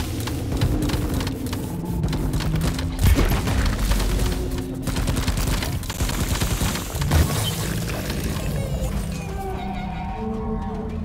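Supporting gunfire in a war video game rolls as a dense, continuous volley of shots and booms, loud and sustained, with rumbling impacts throughout.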